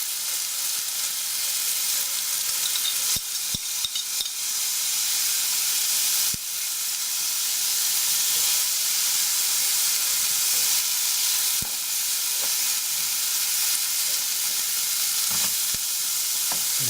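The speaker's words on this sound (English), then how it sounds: "Now I'm going to throw in the capers." Red peppers and capers fry in a pan with a loud, dense, unbroken sizzle close up, with occasional faint taps and shifts of the pan beneath it; nobody talks.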